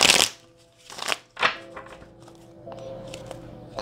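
Tarot cards are shuffled up close in a few quick riffling bursts with soft thumps between them, followed by a faint lingering rustle.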